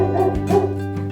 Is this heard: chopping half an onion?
no